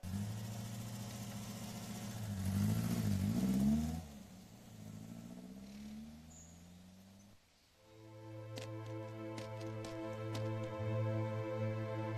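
Car engine in a dramatic Tagalog drama, running and revving, then slowing and dropping off before settling into a steady idle hum, heard at moderate distance with no speech.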